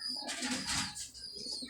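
Pigeons kept at a pigeon club coo softly nearby, with a brief flurry of wing flaps in the middle, and no one speaking.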